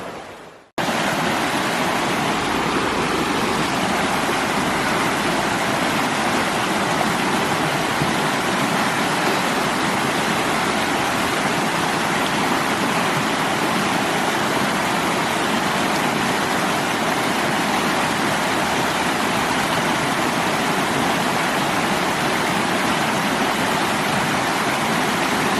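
Rushing river on the Pacific Crest Trail at a washed-out crossing, heard as a steady, loud broadband roar of fast water that runs unbroken after a brief start, with no voices.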